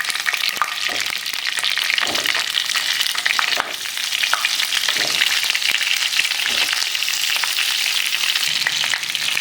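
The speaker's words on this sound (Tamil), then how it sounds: "கத்திரிக்காய் பார்த்திங்கன்னா நல்லா அந்த எண்ணெயில் வதக்கணும்" Brinjal and curry leaves sautéing in hot oil with mustard and fennel seeds for an Andhra-style spicy stuffed brinjal curry. A loud, steady sizzle is heard up close, with light spatter and stirring scrapes and no voices.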